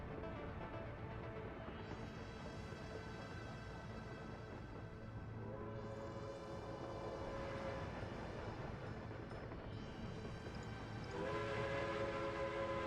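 Trains run in a railway simulation game set around 1900, giving a steady rolling rumble with repeated horn or whistle tones rising over it, continuous and moderately loud with no talking.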